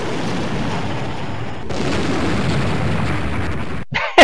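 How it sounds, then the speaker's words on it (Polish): Explosion in the Amiga game Zdzisław Bohater Galaktyki 3D, a loud sustained blast of rumbling noise that cuts off suddenly near the end, followed by a short sharp burst. "Wow, eksplozja!"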